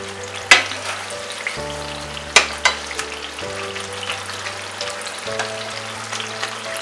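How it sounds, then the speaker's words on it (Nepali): Jalebi batter frying in hot oil at medium heat, a steady bubbling sizzle with a few sharp clinks, while a low electrical hum changes pitch in steps underneath. "अब यसलाई हल्का रातो क्रिस्पी हुने बेलासम्म फ्राई गर्नुपर्छ"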